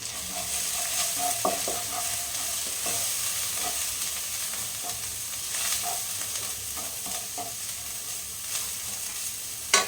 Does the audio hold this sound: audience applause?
no